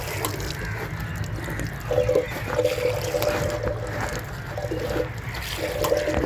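Constant splashing of water falling from a fountain in Lawrence Gardens, Lahore, heard nearby as a steady wash with faint background sounds and no talking.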